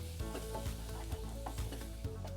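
Chicken mixture with Calabrian chili flakes cooking in a pan, a quiet, steady sizzle broken by regular soft stirring taps and scrapes.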